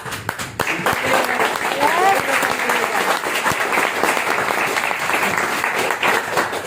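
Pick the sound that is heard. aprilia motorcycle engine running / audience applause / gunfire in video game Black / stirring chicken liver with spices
audience applause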